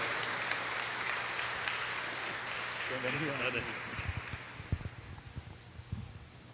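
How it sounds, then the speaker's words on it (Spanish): A church congregation applauds a visiting priest, a broad wash of clapping that fades over several seconds, with scattered louder claps and voices speaking underneath. "démosle un fuerte aplauso como muestra de nuestro cariño también hacia él"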